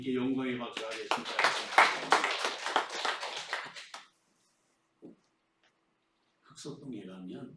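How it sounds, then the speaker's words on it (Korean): A Korean church congregation claps together in a brisk burst of rapid, dense clapping that stops abruptly, followed by silence and then a voice speaking. "우리 하나님께 영광의 박수하겠습니다"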